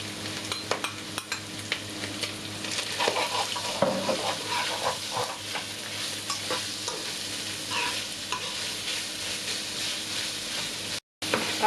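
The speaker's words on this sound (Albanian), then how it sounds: "Pasi është përzier shumë mirë salca me mishin e grirë" Minced meat with salt, black pepper and sauce is stirred in a hot pan: a spoon scrapes and clinks rhythmically against the pan over a continuous soft sizzle and hiss of frying, close and clear, without talk.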